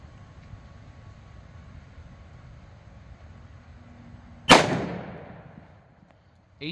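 A single loud shot from an M&P pistol firing .357 Sig Grizzly Kodiak Vaporizor 90-grain ammunition at an outdoor range, a sharp crack with a reverberating tail fading over a couple of seconds against quiet background noise.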